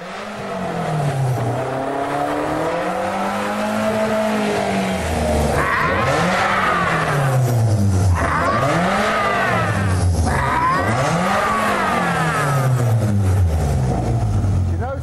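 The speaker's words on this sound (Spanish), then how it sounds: "En 4 días, el motor de su primer supercoche está rugiendo" Freshly assembled supercar engine roaring to life in a London workshop, revving repeatedly in loud rising and falling sweeps, with voices partly over it.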